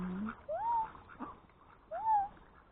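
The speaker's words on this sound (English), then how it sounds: "Hello, kitty cat," A cat among ducks in a garden gives two short rising meows about a second and a half apart, faint against quiet outdoor background.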